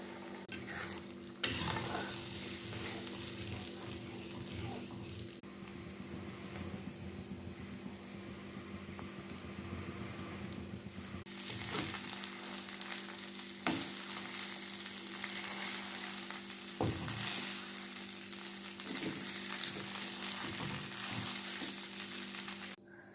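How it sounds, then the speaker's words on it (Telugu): Rice flour and buttermilk batter cooks in a pan with fried onions, giving a soft, steady sizzle with occasional stirring scrapes and clicks, fairly quiet and without talk. "ఉల్లిపాయలు వేగిన తర్వాత ఈ పిండి దానిలో పోసి కలుపుకోవాలి."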